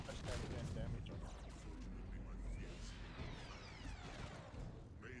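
Plasma cannon fire in the video game Space Hulk Deathwing, quiet bursts of blasts and whooshing impacts with a hard-hitting low thump and sweeping tails, repeated across the few seconds.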